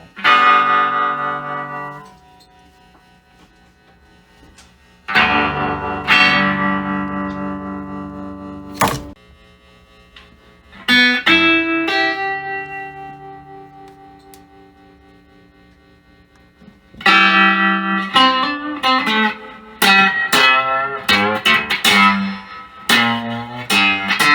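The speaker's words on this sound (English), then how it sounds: "the pedal works fine, and so does the tremolo" Electric guitar chords played through a 1968 Gibson Hawk ring out one after another with a wavering tremolo effect on the sustained notes. The playing is loud and close, with no talking.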